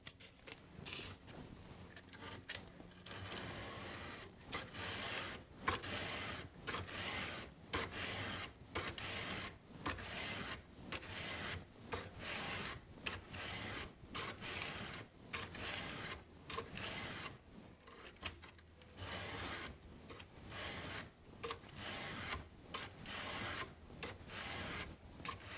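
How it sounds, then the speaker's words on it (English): A rusted Bowie knife blade rubbed with folded medium emery cloth, steady rhythmic back-and-forth rasping strokes, fairly close and quiet, repeating evenly without a break. "I'm going to start with this emery cloth here."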